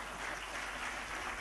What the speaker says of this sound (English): I think the first two speakers deserve a much better round of applause than that